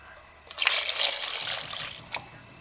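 A short, close pour of tangerine juice into a cake batter mixture, a trickling splash lasting under two seconds, alone.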